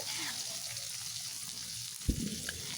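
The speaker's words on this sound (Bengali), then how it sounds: "এগুলোকে এবার একটু ভালো করে নাড়াচাড়া করে ভেজে নেবো" Long-sliced onion and garlic frying in a pan, a quiet continuous sizzle close by with one brief clatter of a utensil near the end.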